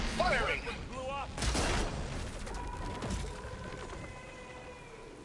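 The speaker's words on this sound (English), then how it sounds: "Firing!" Combat in Horizon Forbidden West, with a burst of close gunfire and mechanical clatter near the start amid robotic chirps, then fading into a lower din with tonal game sounds as a voice speaks over part of it.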